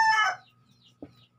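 A gamecock's crow rings out loud and close, then cuts off, followed by a brief low cluck.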